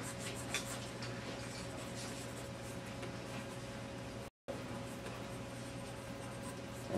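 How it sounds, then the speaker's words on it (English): Steady scratchy drawing strokes of hair being sketched onto a face portrait, a continuous close rubbing texture with faint hum beneath and no talk. "So I'm going to draw the indication of hair going this way"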